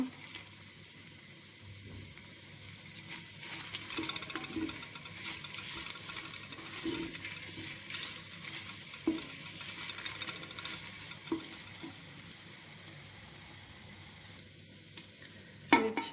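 Tomato paste sizzling and sautéing in a pan as the base for a dried bean soup: a steady, soft frying hiss lasting throughout, with occasional stirring clinks and scrapes of a utensil against the pan close by.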